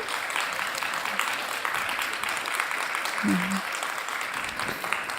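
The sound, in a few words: applause for three session participants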